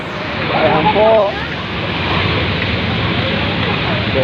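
Floodwater waves wash through a flooded street beside a Q-Mart during heavy rain, giving a steady broadband rush with a brief voice speaking early on.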